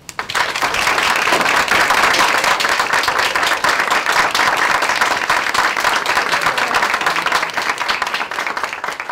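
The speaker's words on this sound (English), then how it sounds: "I want you to give a warm round of applause for my sister, Miss Millionaire Mindset," Sustained, loud applause from a lecture audience greeting a speaker, dense clapping that holds steady for about nine seconds and thins slightly toward the end, with no talk over it.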